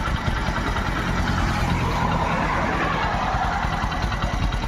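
A 2015 Hero HF Deluxe motorcycle engine runs steadily at idle up close, a continuous low, pulsing thrum with no other sounds standing out.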